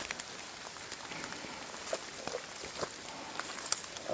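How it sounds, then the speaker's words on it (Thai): Light rain patters steadily around bee boxes during the rainy season, a soft, fairly faint hiss with scattered individual drops ticking nearby. "รอฝนซาอีกสักนิด นึง นะครับ"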